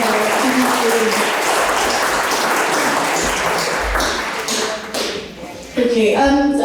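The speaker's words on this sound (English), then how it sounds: "So round of applause for the girls here and the boys here." A hall full of people clapping for schoolgirls and boys at a Sister Nivedita celebration, loud dense applause that thins and dips briefly before swelling again, with some voices mixed in.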